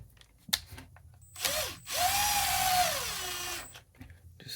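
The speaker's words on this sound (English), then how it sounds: "We'll tighten the T20 up first." A power driver runs T20 screws down on a chainsaw during a fuel line replacement: a short rising whir, then a longer steady buzzing spin that slows as the screw seats, with faint clicks around it.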